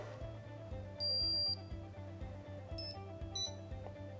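An AirShield security alarm keypad wakes with a clear electronic beep, followed by a couple of shorter chirps over a steady low hum indoors.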